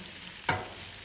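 A short scrape and sizzle as pesto pasta is stirred on a Blackstone flat-top griddle, one quick burst standing out over a steady, fairly quiet frying hiss.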